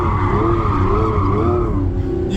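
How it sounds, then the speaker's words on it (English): Lamborghini sliding sideways in a long drift, a loud continuous engine roar with a wavering tire squeal over it, heard close up from inside the car. "Oh, there we go, a long drift."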